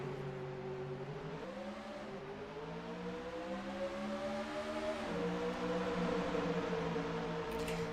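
A field of simulated stock cars in the NR2003 racing game pulls away on the green flag at Phoenix ISM Raceway, a steady layered engine drone whose pitch climbs in steps as the cars shift and accelerate, fairly constant and without speech.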